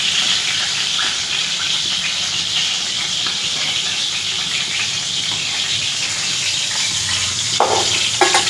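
Hilsa fish fries in a pan for a Bengali steamed ilish recipe, giving a steady, close sizzling hiss that runs unbroken with a faint clatter near the end.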